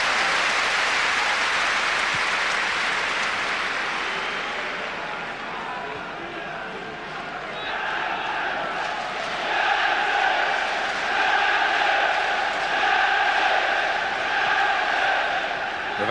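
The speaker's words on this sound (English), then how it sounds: "Crowd are giving Newcastle fantastic support." A stadium crowd roars for Newcastle United against Barcelona in a 1997 Champions League night match, a dense continuous wash of noise that swells into sustained, tuneful chanting toward the end.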